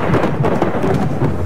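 Heavy rain pours with a low rumble of thunder during a stormy night in an animated Hindi ghost story set aboard an empty train compartment, loud and continuous throughout with no voices.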